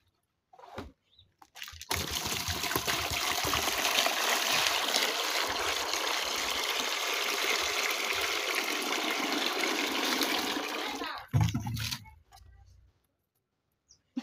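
Water poured steadily into a container for roughly ten seconds in a village home, a continuous close rushing stream that stops abruptly, followed by a brief clunk.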